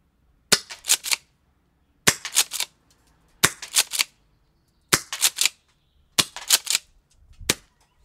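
A Tokyo Marui M870 gas airsoft shotgun with a wood stock fires five sharp, loud clusters of cracks and clacks, each shot bundled with its pump action, evenly spaced over quiet gaps.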